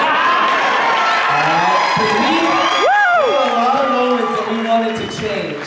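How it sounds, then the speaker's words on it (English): Crowd at a West Coast Swing pro show cheering and whooping, a loud sustained wash of voices with rising yells near the middle, close and continuous across the whole stretch. "You have to cheer at the cheesiness."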